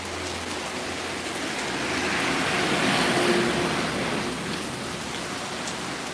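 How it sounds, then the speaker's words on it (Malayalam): Steady morning rain falling outside, a broad, even hiss of drops that swells slightly in the middle, with no voices. "രാവിലെ അങ്ങനെ മഴയത്ത് തണുത്ത് ഉറച്ചിരിക്കുകയാണ് പുറത്തോട്ട് പോകാൻ പറ്റാത്ത അവസ്ഥയിലാണ്"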